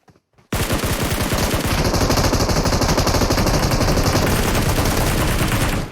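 Sustained automatic gunfire in PUBG Mobile, a loud rapid burst of shots starting abruptly after a short pause and continuing without a break.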